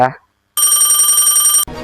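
A telephone rings in one steady, bright electronic burst lasting about a second. It follows a short spoken phrase and is cut off as another voice begins.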